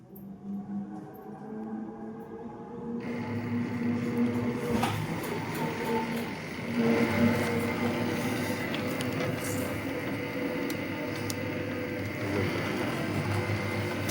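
An automatic machine for winding charger coils runs with a steady mechanical whir and hum. It starts quietly and then grows into a continuous, close drone with layered tonal whines and faint rattles, with no talking.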